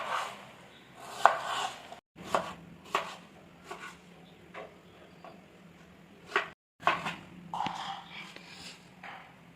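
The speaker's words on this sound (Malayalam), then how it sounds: "നമ്മൾ ഈ ഒണിയൻ സ്ക്വയർ ആയിട്ടാണ് അരിയുന്നത്." A knife chops an onion into squares on a board, with a series of sharp, irregular cuts in quick clusters separated by short pauses, fairly close and clear, with faint whispery sounds in between.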